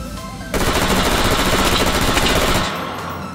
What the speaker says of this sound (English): let's start with the rifles and, of course, gold, tried and true M4A1